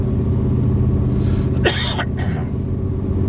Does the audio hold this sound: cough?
yes